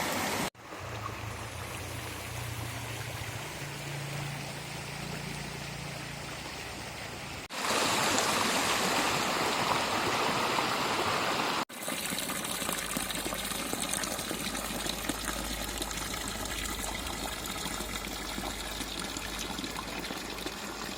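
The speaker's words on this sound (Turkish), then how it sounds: "Burası da Erzin Deresi." The Erzin stream in the Amanos mountains of Hatay, carrying sulphurous water, rushes and gushes continuously and loudly nearby, with a few abrupt shifts in level but no talking.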